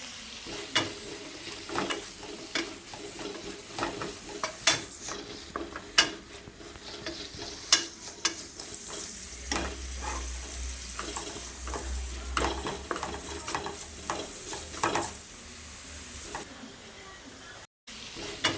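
Onions and masala fry in a pan with a soft, continuous sizzle, broken by frequent sharp scrapes and clicks of stirring and a low rumble partway through, at close range.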